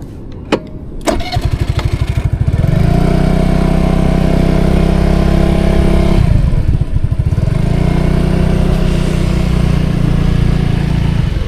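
A crossover motorcycle engine starts with a few sharp clicks, then settles into a loud, steady, close idle with a brief dip in revs partway through.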